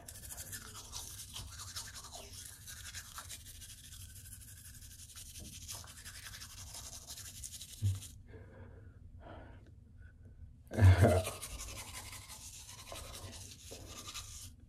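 Toothbrush scrubbing teeth close up, a continuous soft bristly rasp with breathing, broken by a short pause and a brief louder burst near the end.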